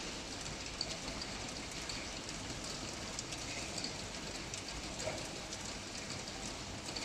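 Steady rain falls in Morocco in a dense, even hiss, with occasional louder drops pattering on a nearby surface.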